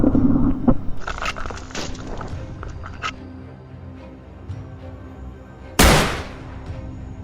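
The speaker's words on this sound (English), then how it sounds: "A rapid burst of gunfire erupted." During a wild boar hunt in thick mountain brush, one sharp, loud gunshot cracks out and rings away, following a few seconds of quieter rustling, snapping and scattered clicks.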